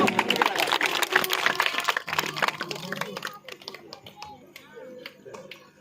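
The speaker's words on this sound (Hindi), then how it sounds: "इनके लिए भी जोरदार ताली" Audience at a Bhagwat Katha religious gathering claps loudly in a dense burst that thins into scattered claps, with voices speaking over it.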